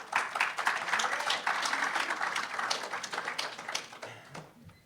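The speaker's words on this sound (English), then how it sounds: "Yeah, let's give a round of applause." An audience at a nanoscience summer institute's final presentations claps in a dense round of applause that stays fairly even, then thins and fades near the end.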